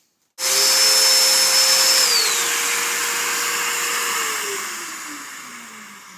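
A Festool Domino joiner motor starts abruptly and whines loudly and steadily, pitch dropping slightly partway, then slowly winds down as it is adjusted, with no talking.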